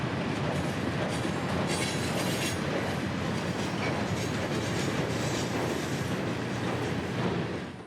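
CSX freight train 311 rolls along the rails through the Bone Valley phosphate region in summer, producing a continuous loud rumble with rhythmic wheel clatter close by, holding steady before easing at the end.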